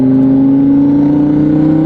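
An Audi R8 engine accelerates, a close, loud and steady rising drone that holds strong for a couple of seconds.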